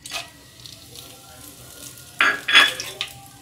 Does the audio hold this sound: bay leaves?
yes